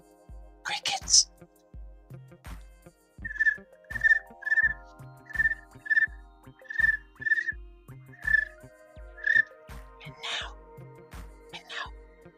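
A person imitates chirping crickets with short whistled chirps in a steady, evenly spaced series over a repeating low rhythmic background beat, close to the listener and fairly loud.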